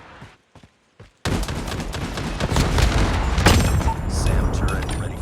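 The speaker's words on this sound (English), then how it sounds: "Hostile predator missile inbound." A predator missile strike in a Call of Duty Mobile hardpoint match: after a few quiet clicks, a loud sustained barrage of booming blasts and rumbling gunfire swells and peaks midway, with announcer voice cues around it.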